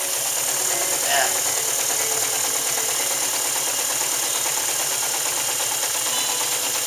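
An Imperial sewing machine runs steadily and fairly loud, stitching through folded old leather, with a constant even mechanical hum and no pauses.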